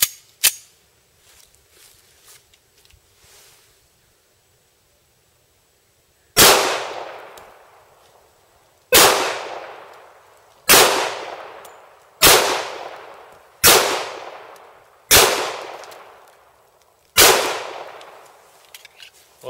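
Seven loud Kimber 1911 pistol shots at target practice crack out one by one at spaced, irregular intervals, each with a sharp report and short decaying echo, after a few seconds of faint quiet handling sounds.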